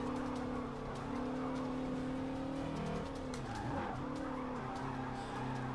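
Engine drone of a 1963 VW Beetle time-attack build in Forza 7, with tyres locking and squealing as the car skids under braking, a wavering screech over the steady motor, loud and continuous.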